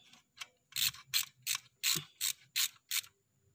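A ratchet clicks in a quick series of about nine sharp, evenly spaced strokes tightening a bolt while checking diesel glow plugs on a Mitsubishi Strada Triton, close and fairly quiet, with no talking.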